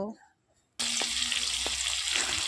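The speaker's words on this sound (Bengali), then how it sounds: "কড়াইতে মাছ দিয়ে দিয়েছি" After a brief voice and a moment of quiet, a loud steady sizzle of fish frying in hot oil in a wok starts abruptly and continues.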